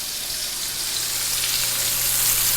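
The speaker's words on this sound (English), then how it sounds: "the asparagus frying" Asparagus frying in hot pure vegetable oil gives a steady, close, bright sizzle that holds without a break and builds slightly louder.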